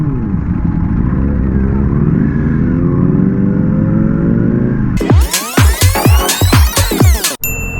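Ducati Panigale V4S superbike riding through London city streets, a steady loud engine drone that breaks into a rapid series of sharp revving surges and gear changes, up close with wind rumble.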